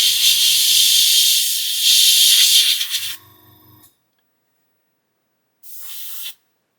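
An airbrush blasts plain air to dry heavy paint coats on a model kit, a steady close hiss for about four seconds over a faint low hum, then silence and a second short burst of hissing air.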